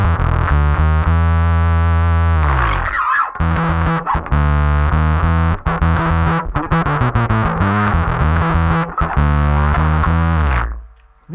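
Electric guitar through an Anagram Entropia distortion pedal on its synth setting, a thick, buzzy, synth-like tone with sustained chords, then choppy rhythmic notes and stabs, loud and alone before fading out at the end.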